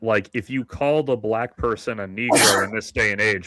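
A single sharp sneeze bursts out in the middle of a man's steady, nearby talk, loud and brief, with his speech carrying on around it.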